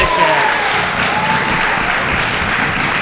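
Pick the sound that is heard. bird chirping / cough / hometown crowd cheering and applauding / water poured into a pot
hometown crowd cheering and applauding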